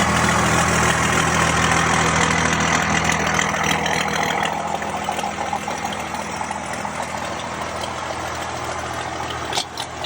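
A 12-valve Cummins diesel engine idles with a steady, rappy low rumble, close and loud, holding a constant chugging drone for the full stretch with no talk.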